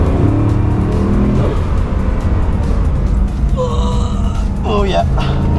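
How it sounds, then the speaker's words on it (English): A Bugatti Chiron brakes hard on the Nürburgring during a passenger lap, with a loud, steady engine and road roar, tire noise and descending whining tones as it slows, under excited shouts from the occupants. "So now I will give you a demo about the deceleration power."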